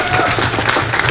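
An audience at a retro gaming expo stage show claps in a brief, dense burst of applause, loud and continuous.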